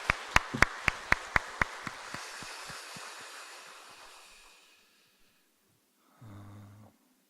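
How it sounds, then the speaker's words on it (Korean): Applause in a church for the choir after an Easter cantata, starting as a few sharp claps that swell into a crowd's broad clapping before trailing off into silence, followed by a short low murmur. "우리 감사와 우리 격려의 박수 같이 한번 우리 찬양대에게 드릴 수 있도록 하겠습니다"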